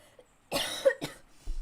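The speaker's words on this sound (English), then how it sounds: "I don't know why I'm coughing." Two quick coughs, the first harsher and longer, sound close in a quiet setting, followed by a soft low thump.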